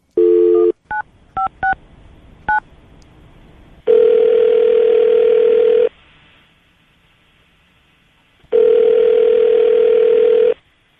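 A telephone dials out with a brief burst of quick DTMF keypad beeps, followed by two long ringback tones separated by a pause, loud and clean with no voices.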